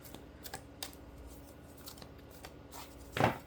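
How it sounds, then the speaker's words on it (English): Tarot cards are shuffled by hand in short, irregular riffling bursts with pauses between, close and fairly quiet, ending in one louder flurry of shuffling. "I'm just going to shuffle just a little bit more"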